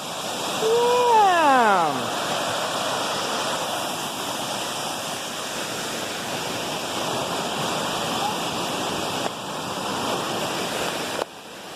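The Cornalla Waterfalls produce a steady, close, full-bodied rushing roar that persists throughout, with a person's excited shout near the start.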